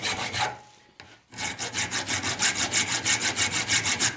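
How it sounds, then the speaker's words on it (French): Steel front-axle parts of a Citroën Traction 11, clamped together in a vise, being hand-filed flat: a brief pause, then steady, rhythmic rasping strokes at a close, even pace with no talking. "limer tout ça pour faire un plat."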